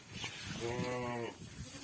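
A newborn goat kid on a farm gives one drawn-out, wavering bleat, close by and clear, with faint people's voices in the background.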